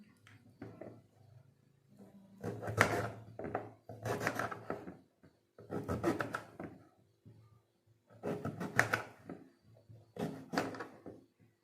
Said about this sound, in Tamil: நம்ம இதே மாதிரி 3 மாங்காவும் கட் பண்ணி வச்சுக்கலாம்.